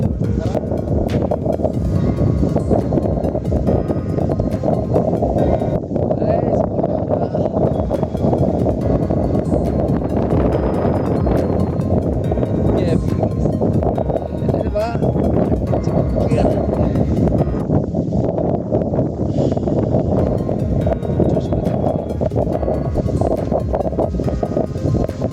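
Strong wind buffeting the microphone outdoors at Ilaveezhapoonchira, a constant loud low rumble that holds for the whole stretch. A voice speaks faintly underneath.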